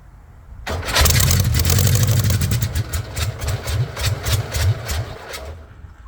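A Volkswagen rat rod engine cranks and fires up, a loud, rough, uneven chugging that pulses and sputters as it struggles to keep running, close to the microphone.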